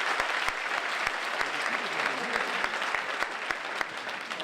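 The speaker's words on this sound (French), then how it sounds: "Le professeur Thierry Piche, que vous pouvez applaudir" An audience at a medical meeting applauds Professor Thierry Piche with sustained, dense clapping, a steady wash of many hands with a few sharper individual claps standing out, fairly close and continuous throughout.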